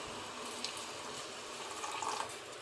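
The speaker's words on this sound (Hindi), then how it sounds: "डाल दिया दूध" Milk pours into jaggery tea in a pot, a steady close liquid gush with a brief bubbling swell near the end and no talking.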